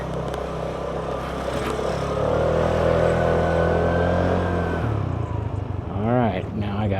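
A Piaggio Liberty scooter with an overhauled transmission pulls away and rides, its engine note rising into a steady hum before easing off, with a voice talking over it near the end.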